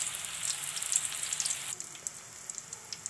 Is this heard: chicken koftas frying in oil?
yes